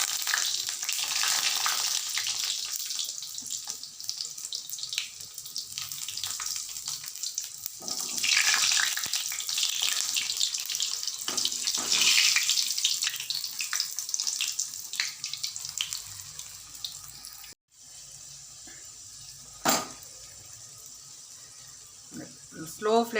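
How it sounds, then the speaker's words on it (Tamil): Potato rolls frying in oil over a low flame, a steady bright sizzle running through the whole stretch with occasional stirring and splashing clatter, while a person talks at intervals. "லோ ஃப்ளேமில் வச்சு நம்ம வறுக்கணும்"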